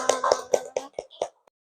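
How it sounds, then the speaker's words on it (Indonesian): A teacher leads a class in a short round of applause: about six distinct claps in a rhythmic sequence that gradually spaces out and fades, ending with one faint final tap, close and clear. "Oke, tepuk tangan buat kita semua."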